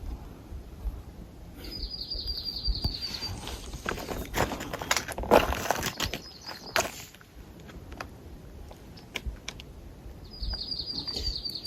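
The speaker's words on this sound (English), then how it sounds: "The birds are singing this morning." Birds chirp and sing in the morning on the Appalachian Trail, with a high repeated trill at the start and end, alongside footsteps and rustling nearby.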